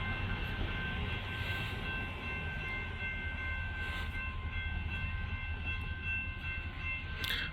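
A huge freight train rumbles through a rail yard in Ardmore, Oklahoma: a loud, continuous low roar of rolling cars with sustained tonal ringing above it, close by and unbroken.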